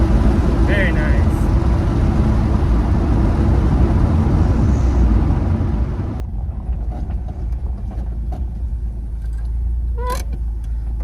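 A tuned car fitted with 1000cc injectors drives along with a loud, steady engine and road roar that drops a little partway through, and a voice speaks over it.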